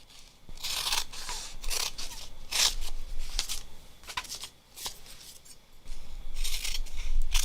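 Scissors snipping through fusible interfacing fabric in repeated crisp cuts of uneven rhythm, close and fairly quiet, with no talk over them.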